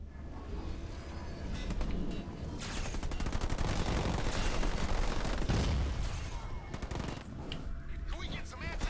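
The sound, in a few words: gunfire from enemy air units in video game Halo Wars 2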